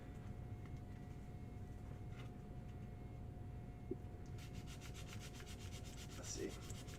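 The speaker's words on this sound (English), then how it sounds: "I don't want to sand into the wood too hard. But I'm also losing a lot of my surface area to spread the sandpaper around." Wood being sanded by hand with sandpaper, a faint, soft rubbing at first, then a run of quick, regular back-and-forth strokes over a low background hum.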